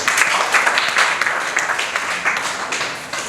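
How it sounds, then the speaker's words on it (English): Schoolchildren in a primary classroom clap for a classmate, a short, loud round of brisk, slightly uneven hand claps that continues steadily throughout. "Okay, clap for him."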